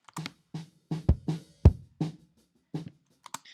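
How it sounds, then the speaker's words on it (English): A series of punchy kick drum hits with a thick, boxy low-mid thud, played in an uneven pattern with a few short clicks between. "the kick drum is quite lumpy, meaning it's got quite a lot of boxy low mids in it"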